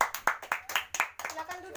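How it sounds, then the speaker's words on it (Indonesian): A small classroom group claps briefly, about a dozen quick close claps over under two seconds, thinning out toward the end. "Nah, aplaus lagi ya."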